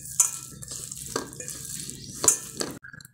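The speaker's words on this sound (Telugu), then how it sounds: "ఇప్పుడు మొత్తం కూడా మిక్స్ చేయాలన్నమాట." Spoon scraping and stirring turmeric and salt through a thick snack stuffing mixture in a bowl, with a few sharp clinks and soft scraping strokes, close and fairly quiet.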